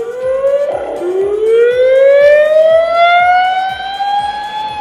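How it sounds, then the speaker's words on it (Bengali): An ambulance siren wails steadily and loudly nearby during a snowstorm in Albany, New York, its rising tone sustained throughout with no talk. "ভিউয়ার্স, আপনারা দেখছেন আরো একটি অ্যাম্বুলেন্স এখন যাচ্ছে।"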